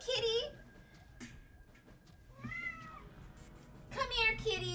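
Cat meows from the video game Virtue's Last Reward: three drawn-out, plaintive meows, one at the start, one midway and one at the end, with quieter game ambience between them.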